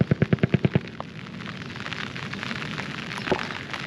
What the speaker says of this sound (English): They've been shooting missiles off too